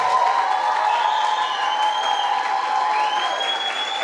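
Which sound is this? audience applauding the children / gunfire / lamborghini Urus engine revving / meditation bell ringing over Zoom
audience applauding the children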